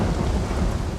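Thunderstorm in the Amazon rainforest, a deep rolling rumble of thunder blended with heavy rain, loud and close throughout.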